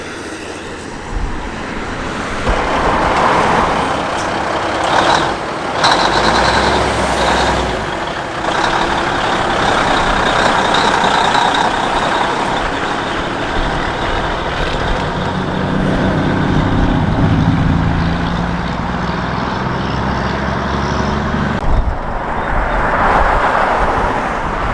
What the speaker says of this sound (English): The wonderful vintage lorries are starting to leave for the Cheshire Run now. First of which is this wonderful old Thames.